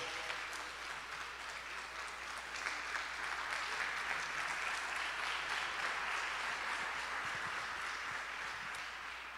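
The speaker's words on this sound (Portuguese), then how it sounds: "Pode aplaudir a Jesus bem forte." A church congregation applauds loudly during a Portuguese-language service, sustained, even clapping from many hands filling the room for around nine seconds with a low hum underneath.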